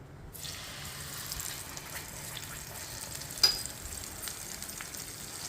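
Onion, tomato and cashew paste frying in a pan for cashew paneer masala, a soft, steady sizzle with one brief sharp clink partway through and no talking.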